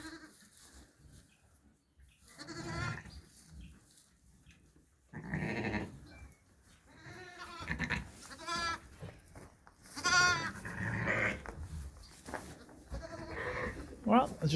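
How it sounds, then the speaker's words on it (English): Two newborn lambs bleating in a barn, their wavering, quavering cries coming in several bursts at moderate distance, with a person talking between and over them. "There's my two new lambs last night."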